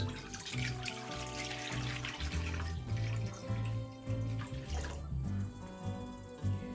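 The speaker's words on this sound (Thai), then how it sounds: "มีน้ำนะคะ ใส่น้ำไปเลย" Water is poured into a cooking pot to start a clear Thai winter melon soup with chicken and pickled lime, making a continuous close splashing gush that shifts in pitch as the pot fills, with no talking.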